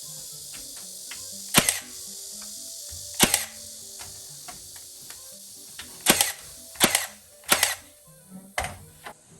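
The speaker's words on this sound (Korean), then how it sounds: "타카로 고정합니다" Several sharp, loud snapping shots of a staple gun fixing PVC to a wooden 2x4 jig, spaced irregularly and close by, with quieter clicks and tapping in between.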